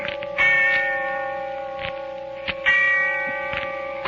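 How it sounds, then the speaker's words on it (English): A church bell tolls slowly, twice, each stroke ringing out clear and then fading in a long echoing hum, heard alone without voices. "And the sound of the bell tolling away in the darkness of early evening."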